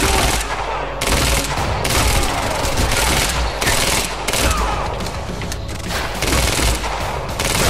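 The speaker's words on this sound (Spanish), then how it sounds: "se van 2000 disparos" Rapid automatic gunfire in the video game Quantum Break, loud continuous bursts of shots with booming impacts, close and filling the whole stretch.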